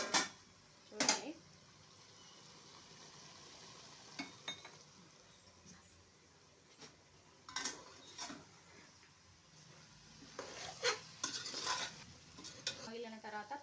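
Chicken pieces are stirred into a simmering curry, heard as faint, scattered scrapes and soft clinks of a spoon against the pot with a low background hush.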